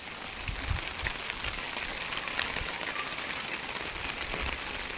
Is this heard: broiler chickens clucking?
no